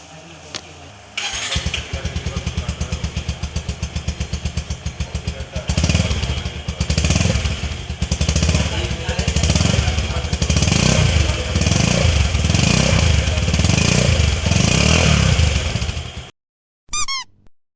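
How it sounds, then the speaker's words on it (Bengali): Engine of a 2021 Bajaj Pulsar 150 twin-disc motorcycle starts and settles into a close, loud idle with a throbbing exhaust pulse, rising in a few rhythmic revs before stopping abruptly. "টুইন ডিস্কের যে এক্সজস্ট নোট এটার সাউন্ডটা একটু শোনা যাক।"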